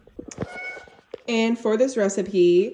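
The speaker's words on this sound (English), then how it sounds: "sorry about my cat" A cat meows loudly and repeatedly in a drawn-out, wavering call close by, while someone speaks briefly just before it.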